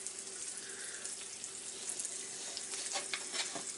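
Butter sizzles steadily in a hot pan as it is spread around before an egg goes in for an egg sandwich, a continuous close crackling hiss with a few sharper pops near the end.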